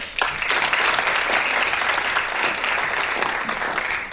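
A quiz show studio audience applauds the competing teams with steady, dense clapping, loud and sustained from start to finish.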